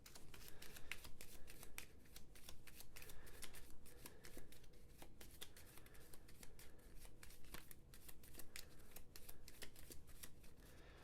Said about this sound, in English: Let's give his deck a shuffle.